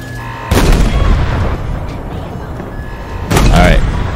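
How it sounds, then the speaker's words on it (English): Game gunfire blasts out twice while shooting enemies in Halo Infinite's campaign, a loud sustained burst near the start and a second heavy burst near the end, with rumbling combat noise between. "I'm gonna shoot them away."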